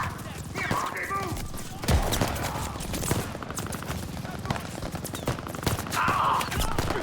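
Rapid gunfire bursts from the Call of Duty Vanguard campaign, steady volleys and thuds running throughout under battle noise and shouted voices.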